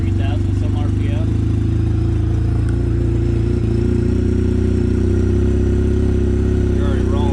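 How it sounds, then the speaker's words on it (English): Engine of an Arctic Cat Wildcat 700 side-by-side fitted with a Dalton clutch kit, running steady and loud up close with a low droning hum as it pulls away, rolling along under faint talk. "you used to have to rev it up a lot just to get going"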